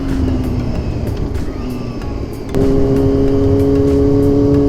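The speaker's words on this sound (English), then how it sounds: "I've removed the DB keeler. Sounds much louder, deeper" A Yamaha R6 sport motorcycle with its exhaust dB killer removed idles loudly with a deep, throaty exhaust note, then the engine steps up to a higher steady drone, close by.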